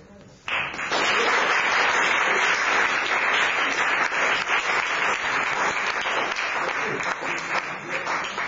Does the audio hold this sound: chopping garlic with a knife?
no